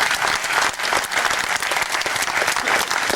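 Loud, sustained applause from a crowd honoring 59 neighborhood police officers at a civic gathering, steady dense clapping filling the whole stretch with no talk over it.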